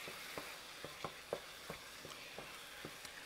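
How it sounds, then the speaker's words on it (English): Rice frying in a hot wok, with soft crackling sizzle under a series of light, evenly spaced taps and scrapes of a spatula against the pan, moderately close and without voices. "You hear it sizzling. That's what you want."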